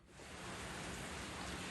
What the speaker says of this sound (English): It started raining, so I'm hoping that doesn't block out my speech too much.